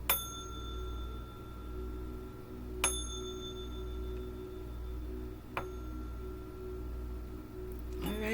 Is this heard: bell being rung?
yes